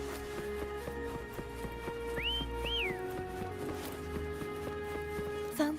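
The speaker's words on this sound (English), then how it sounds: "Try whistling." Two short rising whistle calls summoning Foam in the Wuthering Waves video game, sounding one after the other over steady rhythmic background game music.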